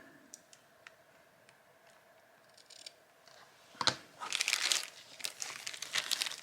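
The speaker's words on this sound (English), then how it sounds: "So I'm just going to cut a piece of this off." A piece is cut off a sheet: after a few faint ticks, a close burst of crinkly cutting and rustling starts partway through and carries on in rough, uneven crunches.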